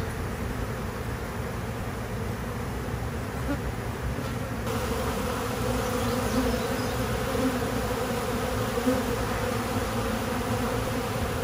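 A swarm of honey bees hums steadily around a tree outdoors, a dense continuous buzz that holds for the whole stretch and gets slightly louder partway through.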